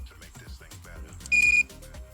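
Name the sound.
beep of a remote keyless entry tester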